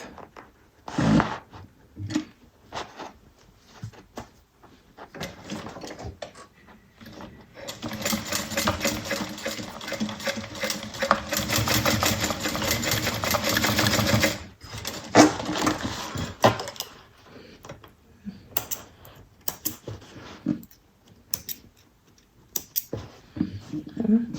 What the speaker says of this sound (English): we're going to bring these together and sew at 1/8